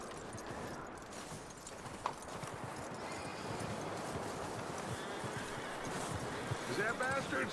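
Horse hooves clip-clop steadily in Red Dead Redemption 2, a walking rhythm with a sharp knock and a brief whinny near the end, heard under outdoor ambience and game voices.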